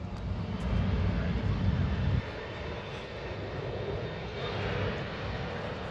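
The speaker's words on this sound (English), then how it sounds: "It's gonna take off, Jax." A United airliner takes off, its broad engine roar loud and close at first, easing slightly after a couple of seconds, with voices faintly mixed in.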